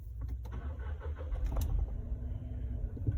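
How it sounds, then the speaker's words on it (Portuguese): Volkswagen Polo 200 TSI engine cranking and catching, then settling into a steady low idle rumble, close and fairly quiet, with a couple of faint clicks early on and no talking. "dei a partida no carro"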